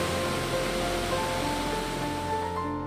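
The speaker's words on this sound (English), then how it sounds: "These powerful waterfalls are awe-inspiring." Athabasca Falls pours down the Athabasca River in a powerful, constant roar of rushing water. The broadband wash holds steady throughout, with faint sustained tones under it and no voices.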